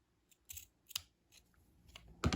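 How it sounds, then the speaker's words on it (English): Scissors cutting an opening in small fabric Barbie baby clothes, several crisp close snips spaced irregularly and ending with a louder final cut, heard alone. "let me just cut an opening there"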